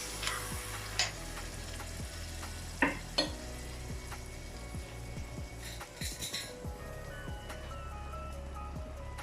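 Chopped tomatoes, three fresh and one canned, sizzle in a pan for prawn curry while a spoon stirs them, with scraping strokes and occasional clinks over a steady fry, close and continuous, with faint music underneath.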